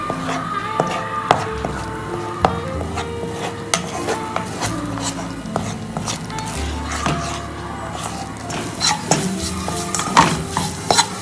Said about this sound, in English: I'll mix the eggs as I cook them, so that I get my scrambled eggs.